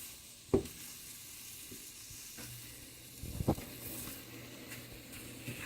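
A thin omelette that has just been flipped in a frying pan sizzles quietly, with a few sharp clinks and scrapes from a utensil against the pan.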